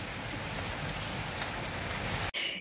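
Steady, dense rain pours down and patters close by for a couple of seconds, then cuts off abruptly into a brief quieter moment.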